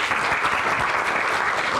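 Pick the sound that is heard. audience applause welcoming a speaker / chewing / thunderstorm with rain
audience applause welcoming a speaker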